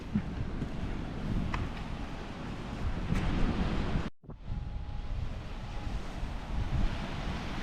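Stormy Black Sea waves rolling onto the shore at Chornomorsk, a steady roar of surf and wind noise that dips briefly midway, then swells back, with no talking.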